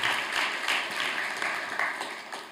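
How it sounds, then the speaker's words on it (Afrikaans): A church congregation claps together during a Sunday morning service, a steady burst of applause that swells and fades with no talk over it. "So wie net 'n hande klap gee vir dit wat die Here in ons paas gedoen het Vrydag nie."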